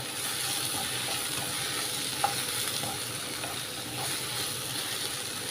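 Onions sautéing for a squid roast, a steady close sizzle and frying hiss in the pan, with soft stirring scrapes and a brief clink partway through, no talk.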